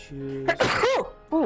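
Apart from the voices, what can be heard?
sneeze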